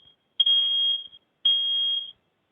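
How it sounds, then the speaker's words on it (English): Two loud, piercing high-pitched alarm beeps, each held for well over half a second, separated by a short silence. "So I've hit the test button on this,"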